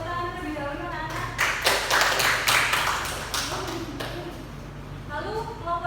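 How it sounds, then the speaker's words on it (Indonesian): Students in an economics classroom clap for a presenting group, a short burst of scattered hand claps rising and fading between stretches of voices talking. "Jadi kelompok 1 kita beri tepuk tangan terlebih dahulu anak-anak."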